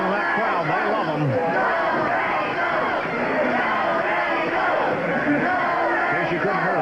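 A 1970s professional wrestling crowd in Northern California hollers and cheers, a dense, continuous roar of yelling voices throughout with no pause.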